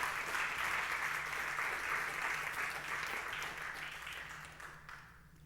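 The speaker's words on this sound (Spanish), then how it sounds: "Dele un aplauso al Señor" A church congregation at a Sunday service applauds in a dense, continuous burst of clapping that fades out toward the end, with a faint voice underneath.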